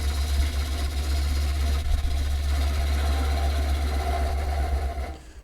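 A wooden bowl spins on a lathe while a gouge works the inside curve, giving a steady low motor drone with a continuous scraping hiss layered over it, close and even throughout before dropping off at the end.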